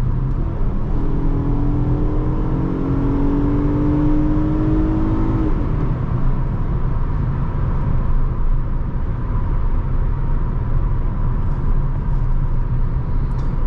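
A 2010 Honda Accord EX-L V6 accelerates smoothly from inside the cabin. The engine note climbs steadily for about five seconds, then settles into a constant drone of engine and road noise.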